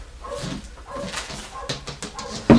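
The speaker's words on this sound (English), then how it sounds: "you can hear my dog barking outside" A dog barks outdoors, somewhat distant and intermittent, behind nearby handling noises and a brief louder knock near the end.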